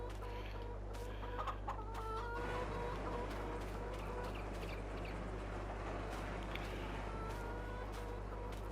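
Chickens clucking in a farming video game, a busy flock of hens chattering continuously with occasional sharp calls, over a steady low machine hum.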